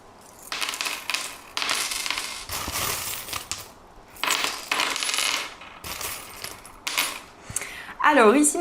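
Small metal charms for a divination reading are cast and tossed together, making several bursts of bright jingling and clattering, close and fairly soft, with quiet pauses between them.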